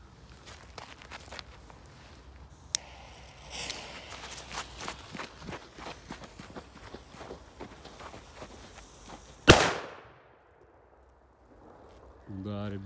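A single sharp, loud Furor Banger firecracker bang cracks out after footsteps and rustling, then fades into near silence.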